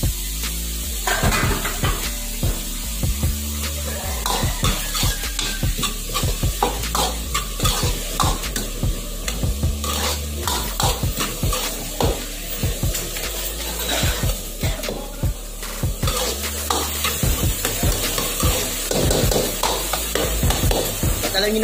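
Plenty of chopped onion sautéing in a pan for Filipino sweet-style spaghetti, a loud steady sizzle broken by constant scraping and stirring of a spatula against the pan, under brief talk.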